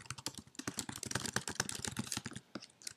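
Rapid, close clicking of keys on a computer keyboard as someone types HTML tags, an uneven burst of taps for a few seconds.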